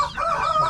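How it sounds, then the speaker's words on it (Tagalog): Chickens cluck close by in a short burst of loud, nasal squawking with no talking. "meron pa mga manok dito"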